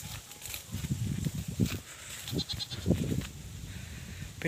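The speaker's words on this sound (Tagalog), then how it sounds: "Pinakawalan natin yung dalawa nating kambing mga ka-farming." Boer goats let loose to graze in an open farm field bleat again and again, with several calls overlapping in an uneven rhythm. They sound fairly close against outdoor background noise, and nobody speaks.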